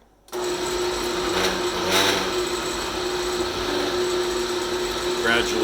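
A kitchen blender switched on to mix salsa after salt has been added, starting abruptly and holding a steady, loud whirring drone for several seconds.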